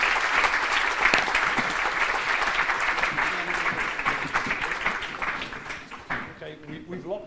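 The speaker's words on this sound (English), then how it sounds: "give a big round of applause" Applause from the audience at a business forum and awards gala, as a panel leaves the stage: dense, sustained clapping that gradually thins out, with voices emerging near the end.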